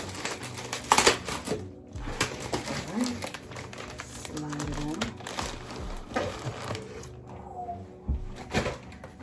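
Crinkly plastic rustling and crumpling from big bubble wrap as a hair-extension package is unwrapped up close, in irregular bursts with occasional knocks and soft handling noises throughout.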